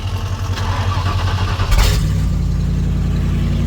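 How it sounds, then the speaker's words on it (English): A Ford Ranger diesel truck engine rumbles loudly close by, with a brief rev partway through before settling into a steady, heavy idle. "So look at this thing fired up."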